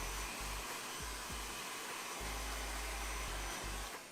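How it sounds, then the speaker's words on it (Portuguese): Hair dryer on its warm setting drying hair during a fade haircut, a loud continuous blowing roar with a low hum that wavers and pulses as the airflow is moved across the head. "Antes que alguém pergunte, eu utilizo o secador no morno, tá?"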